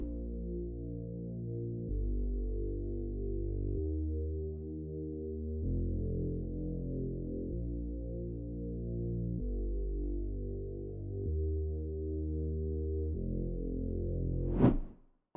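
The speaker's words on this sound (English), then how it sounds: "For this bass, I have used a Serum Breeze bass preset" A synth bass line built on a Serum Breeze bass preset in FL Studio plays a slow progression of sustained, low, warm notes that change every couple of seconds, ending in a sharp rising noise burst.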